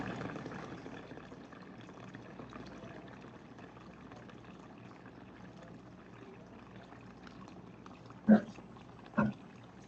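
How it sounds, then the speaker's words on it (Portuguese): Water runs from an opened tap in a small tank-and-pump sensor setup, a faint, steady rushing flow that continues throughout, with two sharp knocks near the end. "Abrimos a torneira para simular o uso da água"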